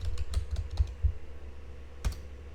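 Keys tapped on a computer keyboard while entering a terminal command, a quick cluster of close clicks followed by a pause and a final keystroke, alone without talk.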